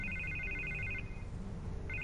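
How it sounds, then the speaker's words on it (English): A telephone trilling in Batman: The Telltale Series, an electronic ring burst that stops and then starts again, heard over low background music without talk. "I can't get the phone to stop ringing."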